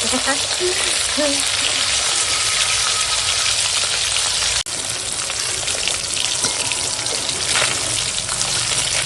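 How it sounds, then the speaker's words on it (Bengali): Loud, steady frying sizzle of rohu fish in hot oil fills the whole clip, a dense crackling hiss with a brief cut midway. "তেল হয়ে গেছে গরম তো চলো এখন মাছটা ভেজে নেবো"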